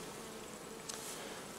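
Honey bees buzz steadily around a Layens divisible hive during a summer honey harvest, a faint continuous hum with one brief brighter burst partway through.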